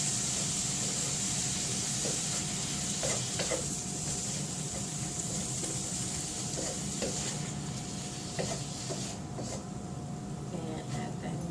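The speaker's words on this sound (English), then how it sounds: "I'll stir that up a little bit more." A pot of bumblebee stew being stirred over steady sizzling, with soft scraping strokes at irregular intervals through a continuous close frying hiss.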